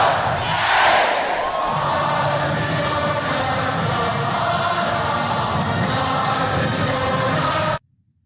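Loud crowd at a TPUSA event at Texas A&M, cheering and yelling steadily for about eight seconds with a swell near the start, then cutting off abruptly.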